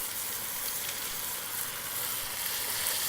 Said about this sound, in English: I'm going to add the last two pieces of pork to the pan.